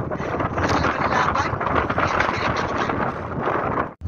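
Strong wind roars steadily across the microphone with constant buffeting, loud and close throughout, with no voices, on a cold, windy night with rough seas.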